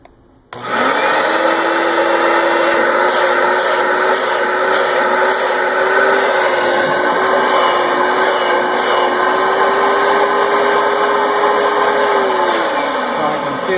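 Rug Doctor Mighty Pro X3 carpet cleaner with its back hose removed and the intake blocked, running with strong suction as a loud, close, steady motor whine with a droning hum that lasts throughout and cuts in abruptly at the start.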